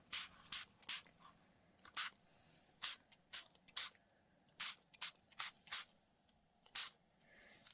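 A spray bottle misting water onto paper for an ink-and-magpie-wing poem piece: about a dozen short, sharp hissing bursts in an irregular rhythm, close and clear over a quiet background.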